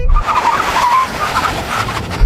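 Loud continuous roar of cars drag racing, a Tesla Cybertruck against a Rolls-Royce Cullinan and a Mercedes-AMG G63, with engine and tire noise sweeping steadily as they pass close by, no voices.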